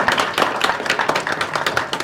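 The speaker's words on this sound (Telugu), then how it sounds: "మరొకసారి పెద్దగా చప్పట్లతో అభినందించాలి" An audience claps for a cheque presentation, with a short burst of rhythmic, fairly close hand claps.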